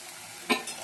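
Water poured into a pan of fried-down masala while cooking raw green banana, giving one brief loud hissing sizzle burst midway over a low frying hiss.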